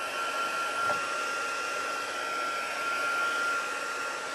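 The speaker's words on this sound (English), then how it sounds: "So now we'll just take our heat tool" An embossing heat tool blows hot air in a loud, steady whoosh with a faint whine, running continuously and close by without speech.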